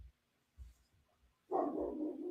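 A dog outside gives a few faint, muffled barks, spaced irregularly, followed by a louder, longer yelping bark burst at the end, with no speech.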